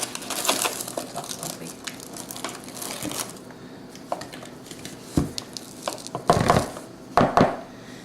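Granulated sugar, a cup of it, poured into softened melted butter in a bowl while baking blueberry muffins: soft sandy crunching and grainy rustles, with a few louder scraping bursts near the end.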